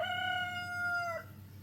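A single rooster crows once, a clear drawn-out cock-a-doodle-doo a moderate distance away, fading out over low background hum.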